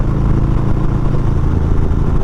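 Harley-Davidson Softail Street Bob motorcycle at highway speed, a loud, close, continuous engine rumble mixed with rushing wind, steady throughout with no voices.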